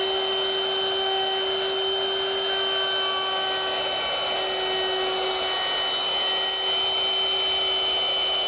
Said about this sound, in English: that 1/4 inch rounding over bit does a nice job at easing all the edges on the seat